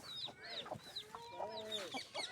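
Hens and roosters cluck and squawk in quick, overlapping calls close by, with sharp rising notes and no talking.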